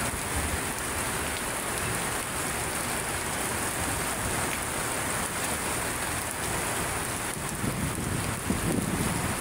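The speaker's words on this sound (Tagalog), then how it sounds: "Pumapatak ang ulan, sa bubong ng bahay, diba?" Rain drums heavily and steadily on a house roof on a wet afternoon, a dense unbroken hiss of drops with no voices.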